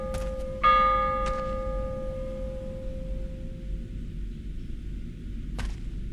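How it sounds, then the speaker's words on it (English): Bells ring out in a cryptid horror video game, a loud struck peal with long sustained ringing tones that fade over several seconds, a second strike soon after and a faint one near the end, over a low dark ambient rumble. "what is up with the bells?"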